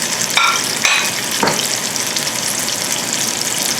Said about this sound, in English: So it should start sizzling as soon as you put that salmon right down on one side of your skillet.